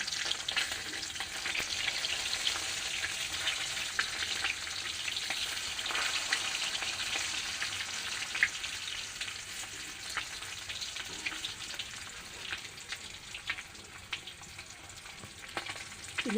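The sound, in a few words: fish frying in a pan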